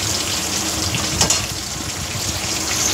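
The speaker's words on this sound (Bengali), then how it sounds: "ইলিশ মাছের তেলটা ভাজা হয়ে গেছে" Hilsa fish oil sizzles and fries in a pan, a steady, close hiss of bubbling oil with one brief louder spatter partway through.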